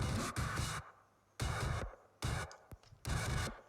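Uncompressed take of a poorly recorded metal bass drum, mixed without samples, with a sharper attack and more punch; four loud, broad hits come in an uneven rhythm, with a brief click between the third and fourth and no talking.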